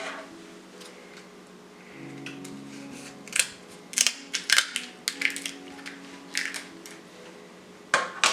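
King crab legs cracked apart by hand before deep frying, giving a run of sharp, close crunches and snaps that cluster in the second half over a faint steady hum.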